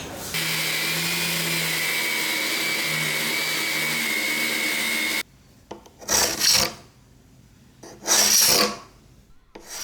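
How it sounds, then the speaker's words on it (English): A glued wooden joint, where a 5-inch piece is glued onto a 27-inch board, is sanded with a steady, close, abrasive rasp for about five seconds. Then comes quieter handling, and after that two separate bursts of scraping strokes. "I'm gonna sand the joint."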